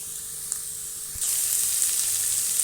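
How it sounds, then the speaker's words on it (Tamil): Chopped onions sauté in a pan for a chicken bone and drumstick kuzhambu, a soft sizzle that jumps to a louder, steady frying hiss partway through, with no voices. "வெங்காயம் போட்டுக்கிறேன் இது நல்லா வதங்கட்டும்"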